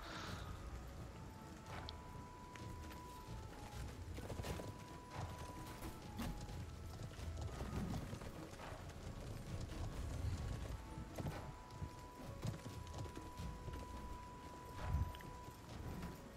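Horses galloping in a Conqueror's Blade battle: a faint, steady clip-clop of hooves under a busy mechanical battlefield din, with occasional whinnies and creaking machinery, no talk.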